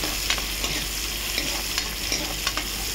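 Panch phoron spices fry in hot oil for a fish curry with spinach, giving a loud, constant sizzle broken by regular scraping stirs, with no talking.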